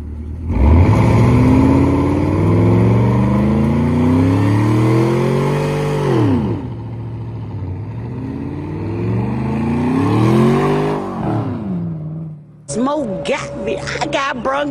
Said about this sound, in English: y'all see the cold start, me automatically starting it. Y'all heard the exhaust.